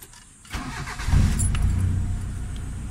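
A Mitsubishi Lancer engine cranks briefly and catches, then settles into a steady, close, low idle that keeps running after the start.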